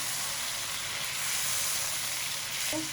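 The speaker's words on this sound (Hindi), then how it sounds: "4 मिनट हो गए हमारा गोश्त फ्राई होते हुए" Chicken pieces frying in oil in a karahi for dhaba-style chicken karahi, giving a steady, loud, close sizzling hiss that holds without a break, with a faint brief tone near the end.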